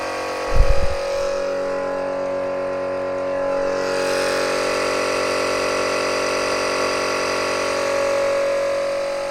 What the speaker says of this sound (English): So I'm just going to pump it out.